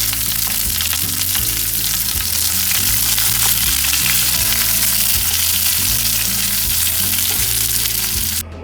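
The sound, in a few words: onions frying in oil for mutton masala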